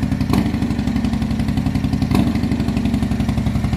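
A 1969 Dodge Charger with a Roots blower engine and freshly finished exhaust tips idles close by, a loud, steady, lopey rumble with rhythmic pulsing and two brief sharper bursts.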